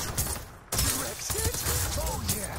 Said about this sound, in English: Is this a slug shotgun?